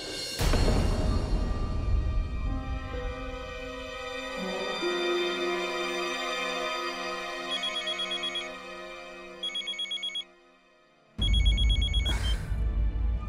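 A telephone rings in repeated electronic trilling bursts, separated by short gaps, after a stretch of sustained tonal sound.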